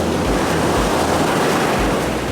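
Ocean surf washes onto the beach at Sayulita, Mexico, as a loud, continuous rushing roar with low wind buffeting against the microphone.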